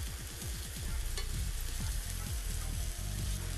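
Apples caramelizing in a frying pan give off a steady, close sizzle with bubbling crackle and soft stirring scrapes, quiet overall and with no voices.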